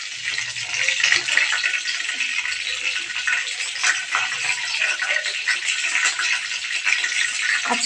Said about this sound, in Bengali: আমি এখানে ম্যারিনেট করা মাছগুলোকে একে একে তেলের মধ্যে ছেড়ে দেবো